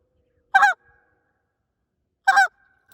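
Two sharp, close honks come from a short reed Canada goose call played with the spit note, each brief and clipped, about two seconds apart, over silence.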